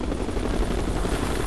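A helicopter in the PC game Ghost Recon: Future Soldier gives off a steady, dense rotor roar that stays loud and unbroken throughout, with no talk over it.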